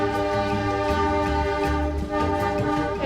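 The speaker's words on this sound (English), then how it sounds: "It's a diesel train." Diesel train passing near a bridge in Whanganui, New Zealand, with a loud sustained multi-tone horn blaring over a deep rumbling engine, steady and close throughout.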